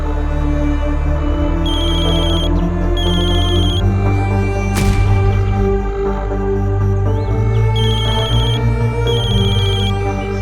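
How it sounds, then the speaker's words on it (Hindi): A phone rings repeatedly in bursts of electronic ringtone over a continuous droning background, loud and close, with no talking. "कौन सा दूसरा फोन बज रहा है?"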